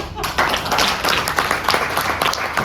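Crowd clapping at a company sales seminar, a dense, steady patter of applause filling the whole stretch with a voice talking over it.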